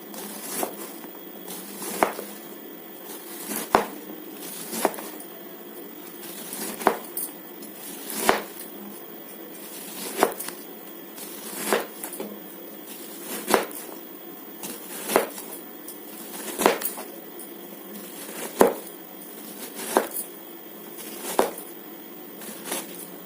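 A knife chops through ridge gourd on a board for curry in steady, evenly spaced cuts, roughly one every second and a half, close by against a quiet background.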